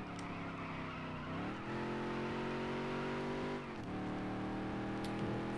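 Race car engine in a NASCAR dirt racing video game, loud and continuous, revving and accelerating with pitch climbing, a brief dip and drop around a corner before climbing again, no talking.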